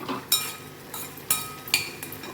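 Pumpkin halwa stirred in a pan with the gas turned off, a spoon scraping and clinking against the metal a few times in sharp, separate knocks.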